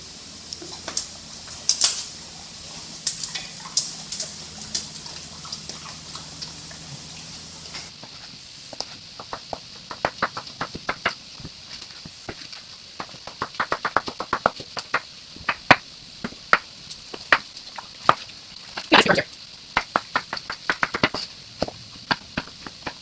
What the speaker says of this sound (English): we're going to go ahead and chop both our zucchini and the Italian squash